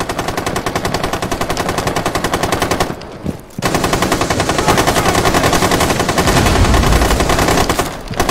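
Machine gun fire in Rainbow Six Siege, rapid, loud and sustained, with a brief pause for a reload before the fast rhythmic shots resume and continue to the end.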